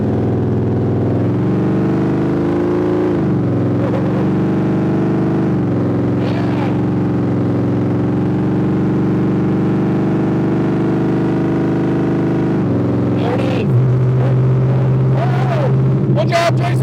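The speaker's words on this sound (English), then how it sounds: "Oh my gosh, it's so loud. We need an exhaust on this car bad." Loud, steady drone of a Cobra car engine running with no exhaust fitted, idling and revving with a sharp rise in pitch near the end, with people talking over it.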